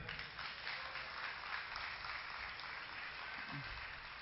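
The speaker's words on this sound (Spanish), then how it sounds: "Un aplauso más fuerte" A church congregation applauding steadily, a dense wash of clapping that holds at an even level throughout without pause.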